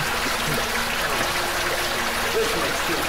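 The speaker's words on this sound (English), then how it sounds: "And the water was so effing loud" A river flows loudly and steadily, a dense continuous rushing wash that fills the whole stretch without a break, with a faint low hum underneath.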